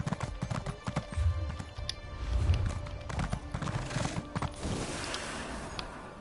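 Horse hooves clip-clop steadily on the ground in the Elder Scrolls Online video game, a close, rhythmic run of hoofbeats lasting several seconds, with a brief whinny-like sound and faint creaks mixed in.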